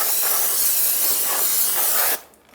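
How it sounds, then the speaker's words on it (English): Brake cleaner sprayed onto a rear drum brake assembly of a 2000-2007 Ford Taurus during a hardware kit replacement: a loud, steady aerosol hiss held for about two seconds, then cut off abruptly to near quiet. "You're going to use a little brake pads cleaner."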